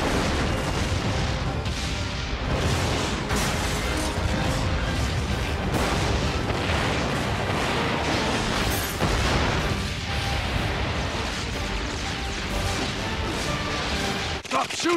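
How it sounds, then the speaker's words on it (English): Explosions and crashing booms from a Batman animated series trailer rumble continuously at a moderate level, dense and busy, with voices speaking over parts of the din. "Gotham City exploding."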